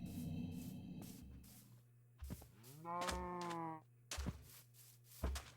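A cow in a Minecraft-style video game gives one drawn-out, fairly loud moo in the middle of a soft game soundscape, with brief thunks before and after.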